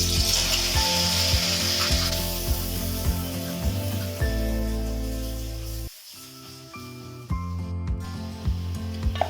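Garlic ginger paste sizzles in a pan with sautéed onions, a steady close frying hiss with shifting bubbling tones, continuing without talk.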